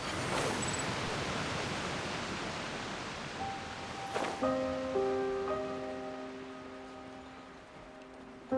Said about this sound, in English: The wind rises.